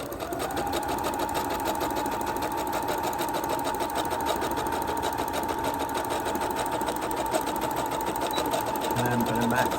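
Sewing machine back stitching ribbon onto tulle-trimmed tutu socks, a steady fast needle chatter running continuously and close throughout with no pauses.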